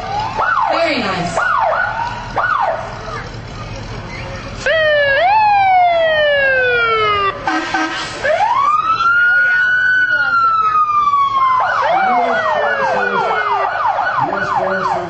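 A U.S. Forest Service fire engine stationed at Dorrington sounds its siren loudly and close by during a parade, cycling through rising and falling wails and rapid yelp patterns, with an air-horn-like blast in between.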